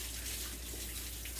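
Steady running water from a tap while hair is rinsed between shampoos, a continuous hiss of moderate level with no talk over it.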